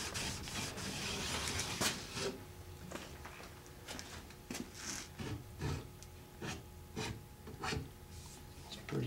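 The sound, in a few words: polishing out marks with 200 grit abrasive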